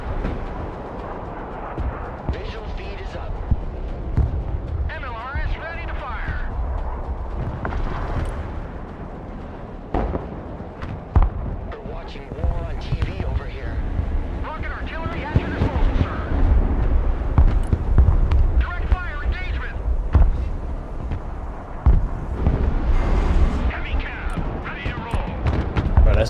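Multiple launch rocket system fire in the Broken Arrow video game gives repeated rumbling booms and a low roar through the stretch, heard beneath ongoing spoken commentary.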